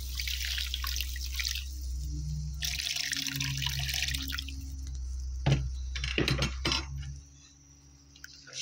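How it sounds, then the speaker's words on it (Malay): Water splashes and trickles into a cooking pot for Sarawak-style asam pedas fish, pouring in bursts with some drips and clinks, close by and without talk. "Masukkan air."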